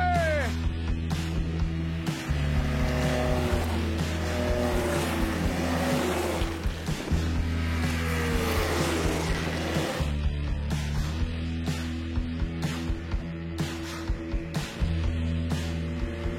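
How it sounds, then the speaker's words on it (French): Several snowmobiles set off together for a last day of riding, their engines droning steadily close by, with revs rising and falling and a brief lull partway through. "C'est reparti pour notre dernière journée de motoneige!"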